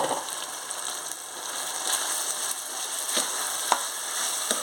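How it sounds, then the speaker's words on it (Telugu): Minced mutton keema fries in a hot pan with steady crackling sizzle and occasional sharper pops, close and continuous, with a few faint stirring scrapes. "ఇప్పుడు కీమా వేసేసుకుంటున్నాను."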